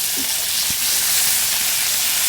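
Fish fries in a pan with a loud, steady hiss and sizzle of hot oil that runs unbroken, with a few faint clinks of cookware underneath.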